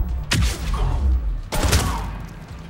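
Two heavy blasts from the Raider shotgun in the Mass Effect 3 video game, each a sharp close boom with a rumbling tail, spaced about a second apart and heard alone.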